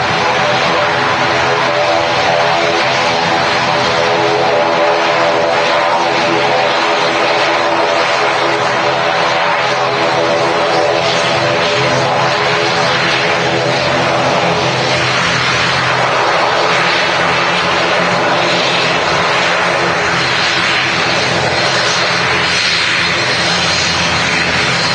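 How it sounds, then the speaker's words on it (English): An ATR turboprop airliner taxis past at Manchester Airport, its propeller engines giving a loud, continuous droning roar that stays strong and steady for the whole stretch. "we'll get this ATR taxiing past."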